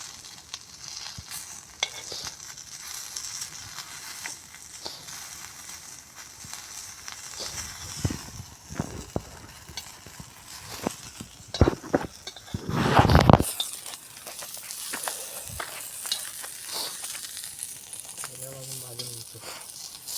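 Chicken 65 frying in a pan over a wood-fired stove, with a steady low sizzle, scattered crackles and stirring scrapes, and a louder burst of hissing around the middle.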